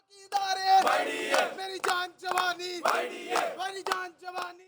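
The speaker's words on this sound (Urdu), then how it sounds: "ینگ ڈاکٹرز کی محکمہ صحت کے خلاف نعرے بازی" Young doctors protesting against the health department outside an office in Lahore, a crowd chanting slogans in loud rhythmic bursts, voices rising together and pausing between lines, close and clear.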